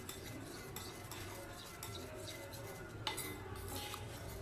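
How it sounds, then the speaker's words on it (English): Whitening lotion being stirred and mixed in a container, soft repeated scraping and clinking of a utensil against the sides, quiet and steady with an occasional sharper tap. "Mix it very well until it has no lumps."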